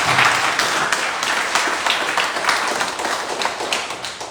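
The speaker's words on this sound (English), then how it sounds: "you people deserve better applause" Audience at a town day lecture in Ijan-Ekiti breaking into loud, close applause, a thick, steady burst of many hands clapping with no pauses.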